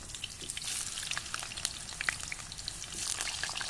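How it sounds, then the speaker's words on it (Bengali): Potatoes frying in hot oil for a Bengali-style duck curry cooked at a picnic, a steady bright sizzle with scattered crackles and pops throughout, close and alone. "তো তেলটা গরম হয়ে আসুক, আলুগুলো দিয়ে দেব"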